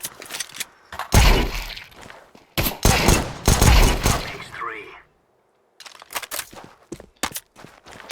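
Gunfire in Counter-Strike 2 gameplay, loud cracking shots in rapid clusters with a brief silent gap, then lighter scattered pops and clicks, with a voice talking at times.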